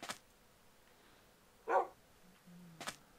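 A dog barking in the Minecraft video game gives a single sharp synthetic bark in near-silence, followed by a brief higher yip.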